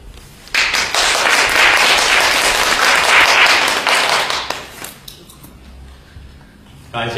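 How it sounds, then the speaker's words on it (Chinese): Audience applause fills a crosstalk theater after a storytelling performance, a dense, loud burst of clapping that swells quickly, holds for several seconds, then fades into quieter scattered claps and room noise. "感谢各位的掌声鼓励啊"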